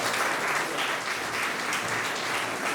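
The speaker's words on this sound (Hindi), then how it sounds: "आइए हम तालियों के साथ पास्टर जी" A church congregation at a Sunday service claps together in steady, dense applause that fills the whole short stretch.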